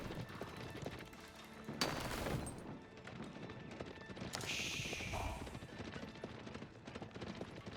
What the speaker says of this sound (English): A cannon being employed in the field